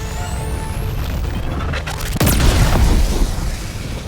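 The Quasar cannon in Helldivers 2 fires a charged laser shot that ends in a loud booming explosion, followed by a rumbling blast tail. Ambient battle noise runs underneath.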